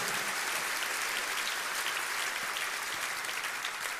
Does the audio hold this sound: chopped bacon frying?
no